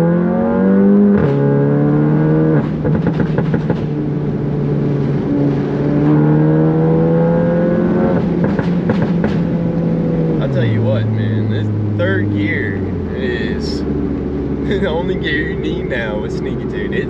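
A tuned Volkswagen GTI accelerates hard, its engine climbing in pitch through the gears with brief drops at shifts and pops, loud and close from inside the car, with someone talking over it.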